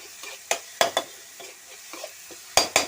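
Okra frying with spices in a pan is stirred in quick scraping strokes, about a dozen uneven scrapes close by over a soft, steady sizzle.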